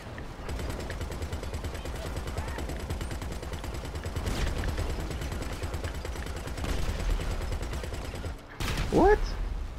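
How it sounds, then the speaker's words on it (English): Sustained automatic gunfire in GTA, a rapid, dense rattle of shots running almost without pause, close and loud, with a short gap and a sharper burst near the end and a voice talking briefly. "I'm shooting him, but he's not dying."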